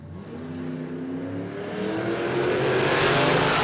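A Hyundai Tiburon drag racing car at Willowbank Raceway, Queensland, accelerates hard on a half-track pass, its engine note climbing steadily in a loud continuous roar with no talk over it.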